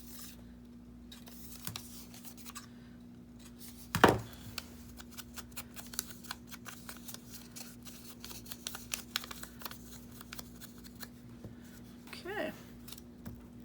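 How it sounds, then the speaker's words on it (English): Scissors trimming excess white paper from the edge of a handmade journal page, a few soft close snips with a louder cut in the middle, while a person talks quietly. "we're gonna trim you down ever so slightly"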